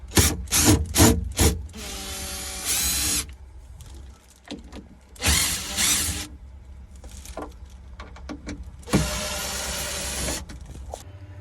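A power driver removing screws during van repairs, in several loud whirring bursts of a few seconds each. Quick short blips come first, then longer runs separated by quiet pauses and small clicks and rattles, close up.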